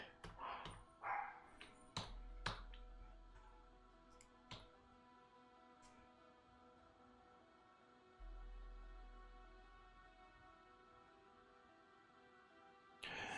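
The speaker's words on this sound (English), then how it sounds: "I bet you're listening to my dog bark in the background." A dog barks a few times in the background, sharp separate yaps clustered early on and again at the very end, fairly faint and distant indoors, with long quiet gaps and a low hum between.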